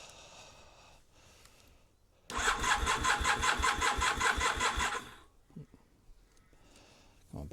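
Project motorcycle engine started on choke: quiet fumbling, then the engine suddenly catches and runs loud and rough for about three seconds before cutting out, with faint noises around it.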